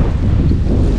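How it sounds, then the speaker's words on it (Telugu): Strong wind blasting across an exposed hilltop, a loud, close, continuous rumble of gusts striking the microphone, with no voices. "ఈ ప్లేస్కి వస్తానే గాలి చూడండి"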